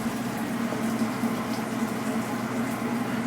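Thin chickpea-batter tempura frying in hot oil gives a steady, close bubbling hiss that runs unbroken with no talking.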